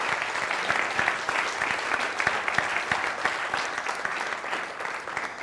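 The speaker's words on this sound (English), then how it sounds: "So give yourselves a round of applause for that." Graduation ceremony audience applauding, a dense, even wash of clapping from a large crowd that holds steady throughout, with no voices rising above it.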